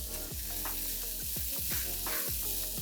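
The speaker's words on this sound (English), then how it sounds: "whenever you're stir frying vegetables, make sure you have to stir fry on high flame" Steady loud sizzling of carrot and cabbage stir-frying on high flame in a hot pan, with repeated scraping stirs and clatter every half second or so.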